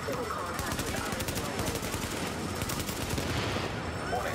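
Assault rifle fire from a video game rattles in a dense, continuous automatic burst, loud and steady from start to finish.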